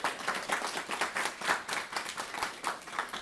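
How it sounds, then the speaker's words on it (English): A small audience claps for interns at a final celebration, a modest, fairly close round of applause with distinct individual hand claps pulsing unevenly throughout. "Let's give them a round of applause."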